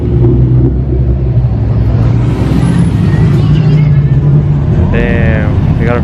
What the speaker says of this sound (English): Is that a GTR? Fast and Furious GTR?